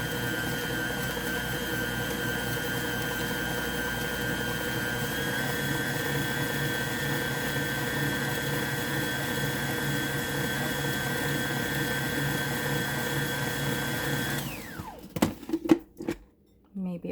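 A Nutrimill mixer whirring steadily as it blends a quadruple batch of sugar cookie dough, a constant motor hum that shifts pitch partway through, then stops and gives way to clattering handling noises.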